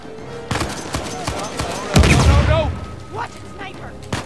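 Gunfire in the video game Uncharted 4: a string of sharp shots and bursts with one heavy blast near the middle, loud and close, mixed with game sound and voices.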